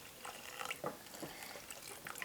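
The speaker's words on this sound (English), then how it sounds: "And now we're just going to pour this in." Bean liquid is poured into a crock-pot, a faint, soft trickling and splashing of liquid heard alone for a couple of seconds.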